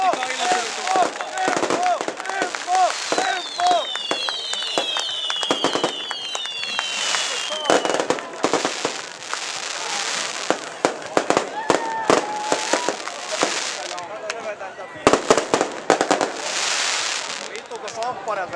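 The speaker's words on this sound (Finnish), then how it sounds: "Nauttikaa ilotulituksesta." A fireworks display at a Finnish car show awards ceremony: repeated sharp bangs and crackling bursts with whistling rockets, steady throughout, with crowd voices and shouting mixed in.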